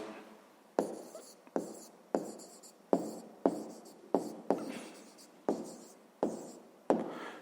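A pen writes an answer to a fifth-grade maths exercise by hand, a series of about a dozen quiet, scratchy strokes, each starting sharply and trailing off, close up and alone.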